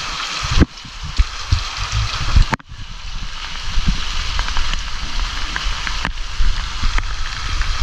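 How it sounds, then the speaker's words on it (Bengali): Rain falls steadily, a close hiss with pattering drops on surfaces. The wash cuts out abruptly a few times and then resumes at full strength. "সেই বৃষ্টি, মানে আমিও বৃষ্টিতে ভেজা শুরু করলাম আর বৃষ্টিও কমে গেল।"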